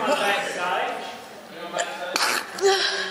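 A single sharp sneeze bursts out near the end, set against a noisy background with people talking nearby, backstage at a theatre production.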